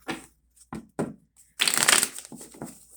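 A few quick tarot card shuffles: several short riffles, then a longer crisp burst of cards flapping together, close by.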